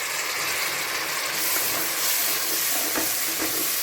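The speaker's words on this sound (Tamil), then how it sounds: "புதினா சேர்த்து நல்லா வதக்கணும்" Mint leaves sautéed in a pan with onion, ginger and garlic for tomato rice, giving a loud, continuous close sizzle and hiss with faint stirring scrapes and no voices.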